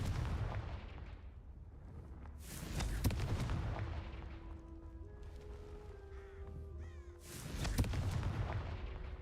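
Fire-spell explosions from the game Hogwarts Legacy, with two loud bursts and a sustained whooshing blast behind a steady background hum and scattered game effects and chimes.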